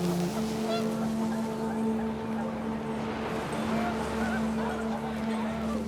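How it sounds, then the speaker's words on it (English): Panicked geese honk briefly in the video game What Remains of Edith Finch, faint calls layered over gusting wind and a steady low drone. "The wind picked up and panicked geese appeared and quickly went."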